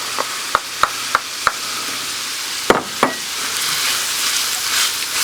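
Chopped rosemary and garlic cook in a hot pan, with a few sharp taps of a utensil against the pan early on and then a rising, continuous sizzle and hiss.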